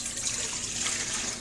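Water poured from a container into a mixing bowl for ciabatta dough, a short steady splashing rush close by, with no talk over it.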